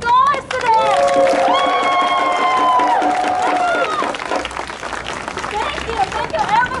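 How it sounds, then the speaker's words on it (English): Crowd at an AAPI Against Hate rally in Seattle yelling, cheering and clapping, a loud sustained mix with tonal shouts and whoops early, then settling into babble and scattered claps. "can we scream and yell and clap for our youth and young scholars today?"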